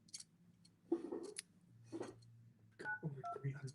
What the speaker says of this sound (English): I'm going to call Taryn and we're going to sell him a car